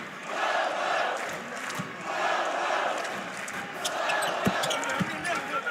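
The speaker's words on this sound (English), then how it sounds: "A lot of New Mexico fans. Not a huge crowd, but celebrating." Crowd of New Mexico fans cheering and celebrating at a college basketball game against UCLA, a steady roar of voices with ball bounces and scattered shouts throughout.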